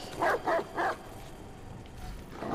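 Three quick barks from a dog in the Watch Dogs 2 video game, loud and close in a tight burst, then a dull low rumble of game ambience with no talking.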